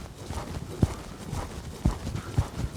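A horse being worked in an arena lopes along, hoofbeats landing as a few distinct thuds spaced roughly a second apart over a soft rustling background.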